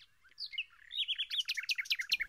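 A pet bird chirps in a toy animal boarding house scene, a run of quick, high tweets that starts sparse and then becomes a rapid, steady string of close, bright chirps with no talk.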